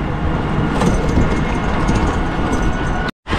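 Rumbling roar of a Delhi Metro train at JLN station, loud and close, holding steady with a faint rattle before cutting off abruptly near the end; no one speaks.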